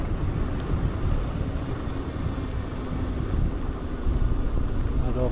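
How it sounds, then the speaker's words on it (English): Cold wind roars across the microphone during an e-bike ride with a Bafang kit. The gusty rumble is loud and continuous, with a low, uneven texture throughout. "There's that cold wind."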